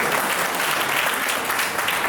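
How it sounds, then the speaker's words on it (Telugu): An audience at a real estate franchise program in Guntur breaks into a steady, dense burst of clapping that fills the hall for a couple of seconds. "Give him once more clap."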